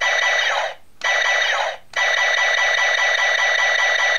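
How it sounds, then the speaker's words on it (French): A continuous high electronic laser warble from a DX Plezu-Oh Kyoryuger toy, cut off twice by brief pauses and then sounding steadily on. "donc des bruits de laser pour bien sûr, c'est parti."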